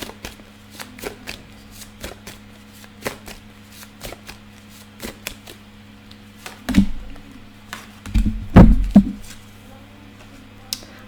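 Tarot cards being shuffled and handled in a quiet room: soft flicks and taps for several seconds, then a denser burst of riffling and slapping toward the end, close and moderately loud with no talking.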